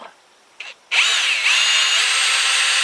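Power drill driving a 2.5-inch deck screw into wood at a campsite table: a brief blip, then a loud, steady high-pitched whine that holds for about two seconds, close up with no talking.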